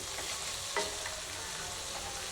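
Tomatoes soften as they sauté in a pan for spicy peanut chutney, making a close, constant crackling sizzle with one brief stirring scrape and no talking.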